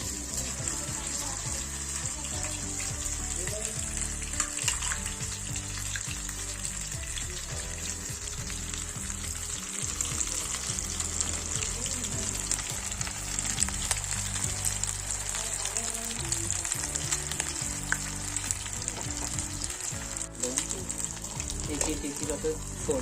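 Lolge fish fry in hot oil that spatters. The sizzle is a steady, dense crackle that runs on without a break, close and moderately loud.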